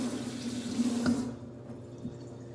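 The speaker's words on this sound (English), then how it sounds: "Rinse my hands off real quick." A kitchen tap runs while hands are rinsed under it during cooking, a steady splash of water that cuts off partway, leaving faint drips and room sound.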